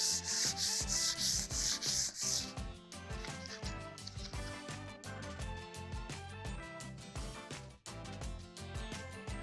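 Paint being sanded off wood with 320-grit abrasive paper, heard as close, rhythmic back-and-forth rubbing strokes; the first few strokes are brighter and harsher before the rubbing settles into a steady pattern.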